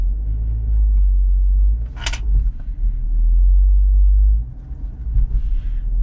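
An Ineos Grenadier crawls off-road over an obstacle, its engine a deep, steady low rumble that swells and eases as the vehicle works across the terrain, with one sharp click partway through and no speech.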